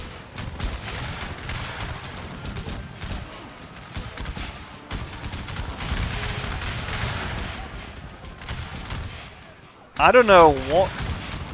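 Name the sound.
gunfire in a Battle of the Bulge video game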